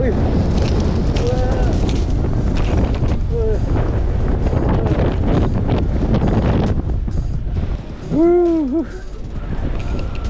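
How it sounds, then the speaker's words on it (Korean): Strong wind buffets the microphone on the coast of Geoje Island during a fishing outing, a loud, continuous rumbling roar that swells near the end, with a voice heard briefly over it. "이제 바람도 너무 세지고 버틸 수 있는 한계점까지 왔습니다"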